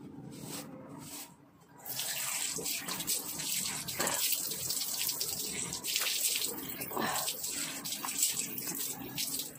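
Icy cold water splashes as a face is washed at a sink or bowl, repeated close splashing and trickling after a short quieter opening.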